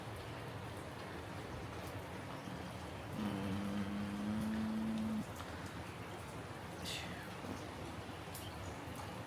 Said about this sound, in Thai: ฝนตกแต่เช้าเลยนะคะ